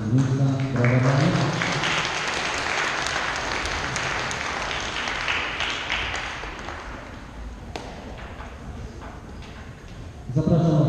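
A school hall audience at a patron's day ceremony applauds a woman steadily for several seconds, the clapping dense and sustained before easing off, with a voice starting up again at the very end.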